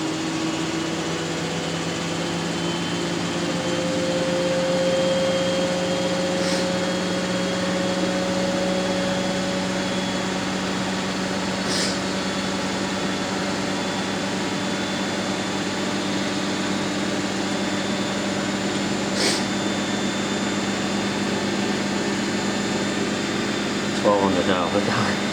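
A Miele W562 washing machine runs a 40°C woollens cycle, giving a steady, fairly quiet hum with faint tonal whine and occasional soft clicks, close by and constant throughout.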